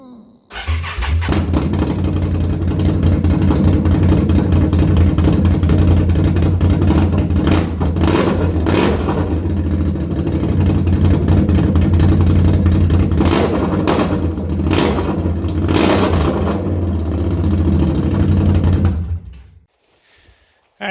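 Loud straight-piped engine of a 2021 Can-Am Outlander 850 XMR ATV, run with no exhaust, revving repeatedly in sharp bursts over a steady throaty idle for about eighteen seconds, then cut off.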